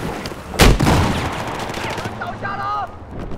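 Battlefield 4 gunfire rings out in one loud, sharp burst near the start, followed by a rattle of scattered shots and game sounds. Faint talk runs underneath.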